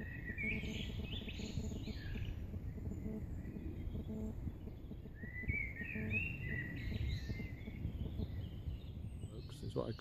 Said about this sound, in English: Magical noise of the birds in the background.